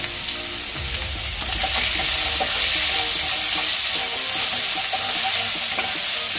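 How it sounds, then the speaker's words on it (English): Salted puffed rice uggani is stirred in a hot pan, giving a loud, dense continuous sizzle with faint scraping and rustling of the grains throughout, no voices. "stir it"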